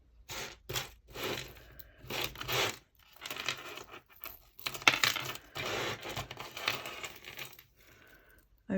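Vintage heavy glass beads, some French jet glass, clink and rattle as they are sorted through by hand, with irregular bursts of close, bright clicking and pauses between handfuls, with no talk.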